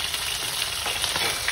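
Chicken frying in a pressure cooker for red kabsa, a steady sizzle with faint stirring scrapes running throughout, close and continuous with no voices.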